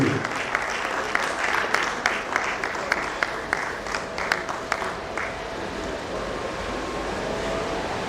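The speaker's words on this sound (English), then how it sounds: "Please keep clapping for the chairman of today's occasion as he comes take the rest." Audience clapping at a dietitians' national conference opening ceremony, a steady broadband patter of many hands with sharper bursts in the first five seconds that then thin into a softer wash, with faint talk beneath.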